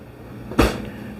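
A drawer under the stainless steel cooktop of a high-end 2023 Living Vehicle off-grid RV slides and shuts with a single soft thump, over a low background hum.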